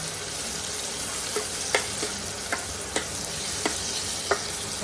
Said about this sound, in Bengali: সবগুলো একসাথে ভালো করে ভেজে নেব তেলের মধ্যে